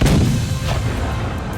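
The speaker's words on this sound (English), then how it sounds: "some interactive objects around the map, like the cannons on the pirate level" A deep, booming cannon blast on the pirate level of a PSVR2 game, one heavy report that rumbles and fades over a second or so.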